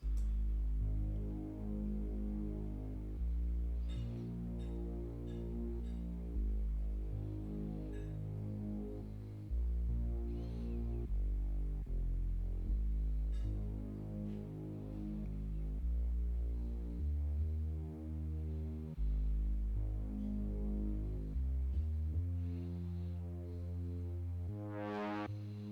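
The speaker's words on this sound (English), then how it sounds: "It is just a saw wave which is pitched down 1 octave" A deep, buzzy saw-wave synth bass pitched down an octave plays a steady sequence of low sustained notes, changing pitch every few seconds, rich and droning with no other instruments.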